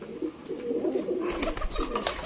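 Pigeons cooing nearby, a few soft low throaty coos in a short run, fairly close and clear, with no talk.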